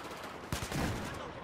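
A single gunshot burst in Battlefield 4 on Xbox One, sharp and close at mid-clip, followed by a short rumble of further fire over a steady game background.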